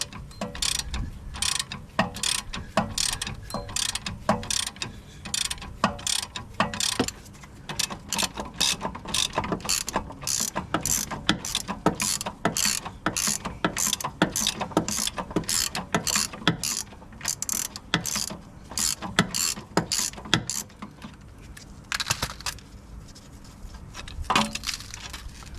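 A bolt being removed from the front suspension of a Honda Civic with a ratchet, giving a long run of rapid, even metallic clicks close up, pausing briefly near the end before a few more turns.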